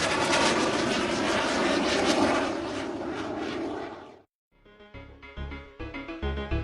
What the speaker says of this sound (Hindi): उन्हें जेट विमान की आवाज आ रही थी।